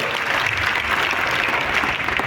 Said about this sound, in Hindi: एक बार सर के लिए जोरदार ताली बजा लीजिए